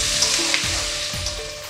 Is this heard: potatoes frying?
yes